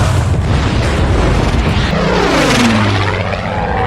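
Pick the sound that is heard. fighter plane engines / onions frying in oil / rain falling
fighter plane engines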